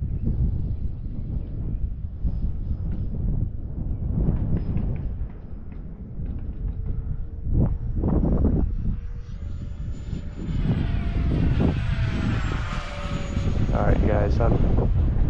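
FMS Viper 70mm RC model jet taking off into the wind, its loud, steady whine rising in pitch as it climbs, with gusty wind noise on the microphone.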